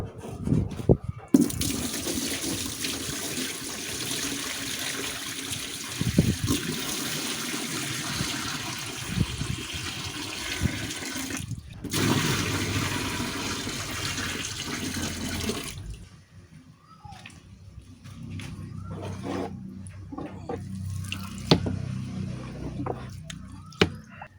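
Tap water pouring into a fish breeding tub, a steady rushing splash near the microphone that runs on, breaks briefly, then gives way to quieter drips, sloshing and handling noises.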